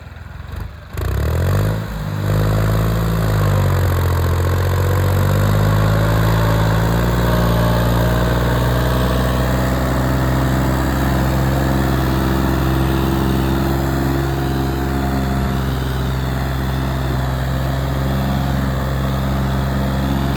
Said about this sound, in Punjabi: ਟਰੈਕਟਰ ਦਾ ਸਲਾਂਸਰ ਬਦਲਤਾ ਬਾਈ ਇਹ ਆਵਾਜ਼ ਘੱਟ ਕਰਦਾ